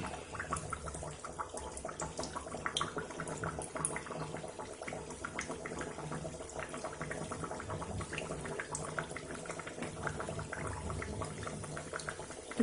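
Khasta snacks deep-frying in hot oil: a steady, soft bubbling and crackling sizzle that stays even and fairly quiet throughout, with no talking.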